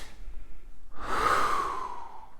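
A single deep breathing exercise for children's meditation, with a brief inhale followed by a long, steady, close exhale lasting over a second, alone without talk.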